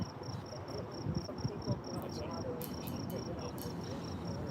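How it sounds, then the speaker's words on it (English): Crickets chirping at night outdoors beside a detention center, a steady high pulsing trill repeating evenly throughout, with a low rumble of distant traffic or idling engines underneath and a few sharper high chirps near the end. "We can hear the crickets."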